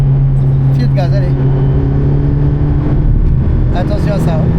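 Race car engine at the Spa-Francorchamps circuit droning steadily from inside the cockpit, pitch rising as it accelerates, with people talking over it.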